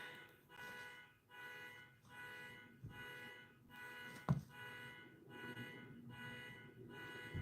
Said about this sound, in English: you guys hear the car alarm?